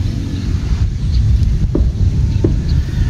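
Loud, constant wind roars and buffets the microphone outdoors in the Philippines, with a few faint clicks scattered through.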